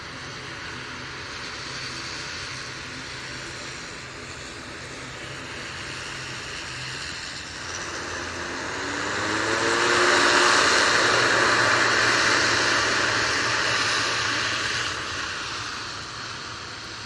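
An Aer Lingus airliner lands at Manchester Airport, heard as a broad distant jet roar that swells louder toward the middle and holds as the plane rolls out, with no talking.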